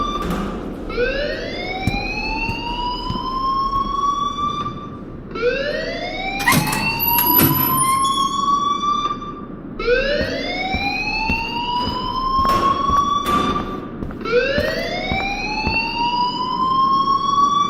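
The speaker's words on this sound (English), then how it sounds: "please turn off that alarm" Repeated rising siren-like alarm wails in the video game Life is Strange, each sweep climbing over about four seconds and looping continuously, loud and close, with no talking.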